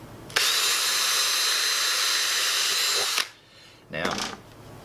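A small drill bit bores through a tough plastic bird feeder in one loud, steady, high-pitched whir lasting about three seconds, followed by a brief second burst as the drill starts again.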